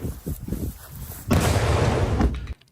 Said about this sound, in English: They lit a fucking firecracker off of it.